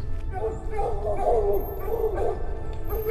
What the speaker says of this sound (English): Why are you barking here?